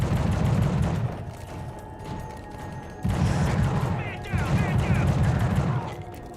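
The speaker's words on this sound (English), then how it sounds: "What are you shooting me for?" Bursts of gunfire in the horror shooter The Suffering come in loud, dense volleys, pausing and then resuming, with some mechanical clatter between shots.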